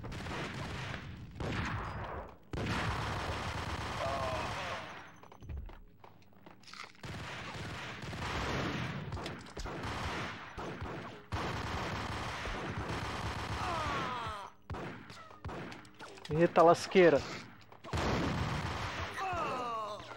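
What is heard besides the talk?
gunfire all around in video game Max Payne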